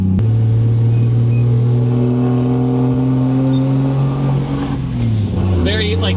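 Mustang fitted with an RB25 engine and straight-pipe exhaust idles with a loud, steady harmonic drone, the pitch dropping near the end as the revs fall, with people talking over it.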